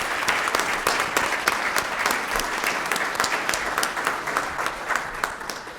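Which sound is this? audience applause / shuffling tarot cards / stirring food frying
audience applause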